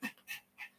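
A dog makes short, faint vocal noises, three quick whimpering or panting bursts in a row, fairly close and alone without talk.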